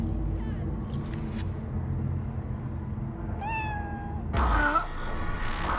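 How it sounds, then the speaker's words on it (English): A cat in the Cyberpunk video game gives a few rising meows, the clearest near the end, over a low ambient game hum. "We now have our kitty cat!"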